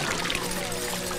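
Liquid splashes as it is poured over a person's head in a Tamil film scene, a steady, close pour lasting about a second.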